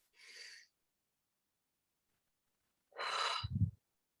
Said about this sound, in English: Just do a couple of like big inhales, big exhales